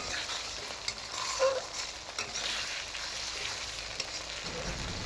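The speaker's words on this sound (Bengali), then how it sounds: "ভাজার পরে আদা রসুন পেস্ট দিয়ে দিয়েছি, দিয়ে এই মশলাটাকে ভালো করে মেশানো হচ্ছে বন্ধুরা" Onion and ginger-garlic paste sizzling in hot oil for a pork curry while being stirred, a close, steady frying hiss with scraping stirs and a few soft knocks.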